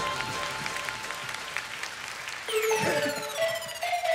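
Audience applause at a live hip-hop concert at Liquidroom, a dense wash of clapping that continues as sustained synth or siren-like tones rise in over it in the second half.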